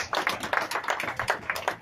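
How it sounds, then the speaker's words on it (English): Scattered clapping from a small audience at an evening event in an Elks Lodge hall, a brief run of distinct, fairly quick claps at moderate volume with no talking. "Round of applause, guys."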